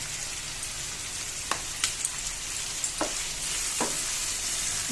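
Tomatoes and curry leaves go into a hot frying pan, giving a steady close sizzle with a few sharp stirring clacks scattered through it, and no talking.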